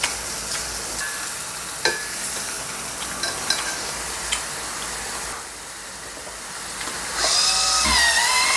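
Meat sizzles steadily in a small single-serving multicooker, a continuous frying crackle with occasional clinks and scrapes of utensils, growing louder toward the end.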